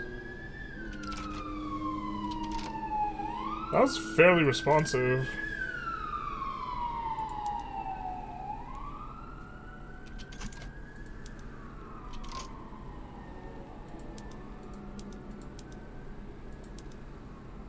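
An ambulance siren in a strategy mod game wails in slow rising and falling sweeps throughout, with a brief clattering burst early on and a voice talking over it.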